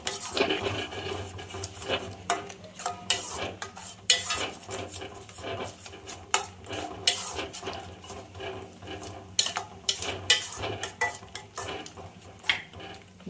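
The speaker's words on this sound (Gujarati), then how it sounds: "આપણે હવે આને કટ થાય ત્યાં સુધી હલાવતું રહેવાનું ધીમા ગેસ ઉપર।" Spoon scraping and clattering against a pan as mango laddu mixture is stirred over low gas, a steady run of close, irregular metallic scrapes and knocks.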